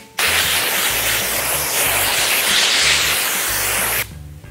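Compressed air blowing off a sanded gelcoat boat surface before priming with epoxy primer, a steady loud hiss lasting about four seconds and then cutting off, with a low rumble underneath.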